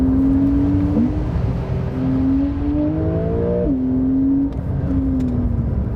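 A 2020 eighth-generation Porsche 911 Carrera S (992) engine revs out past 7,000 RPM, a loud close-up tone climbing through gears with brief dips at each shift, heard alone without talk.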